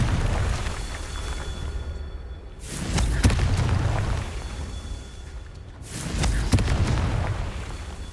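Confringo fire spell explosions in Hogwarts Legacy, two heavy booming blasts a few seconds apart, each bursting sharply and then rumbling off into a lingering crackle.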